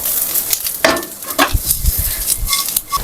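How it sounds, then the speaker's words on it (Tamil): Ivy gourd stir-fried with onions and masala in a pan, a loud close sizzle broken by repeated scraping and tossing strokes of a spatula, uneven in rhythm, with no one speaking. "இப்போ நல்லா எல்லாம் மிக்ஸ் பண்ணி விட்டுற வேண்டியதுதான். ஒரு 2 நிமிஷத்துக்கு பிரட்டி விடுங்க இந்த மாதிரி."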